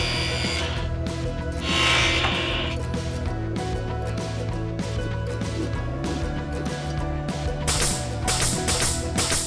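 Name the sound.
table saw crosscut sled cutting the mold base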